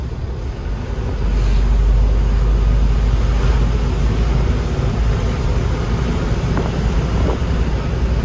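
An Isuzu Elf Short truck pulling away after a shift into fourth gear, a steady low engine drone with road rumble that swells early and holds loud and continuous from inside the cab.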